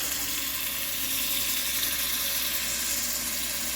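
Steady stream of water pouring and splashing into a bowl of leaves and onion, continuous and close, with a broad hissing wash and no talking.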